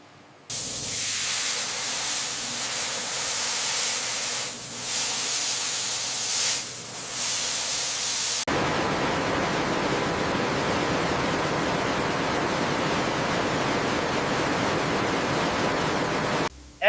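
Steady hissing spray rinses ice cores in a very cold ice core processing facility, a continuous broadband rush that shifts to a denser, fuller spray halfway through and holds, with no talk.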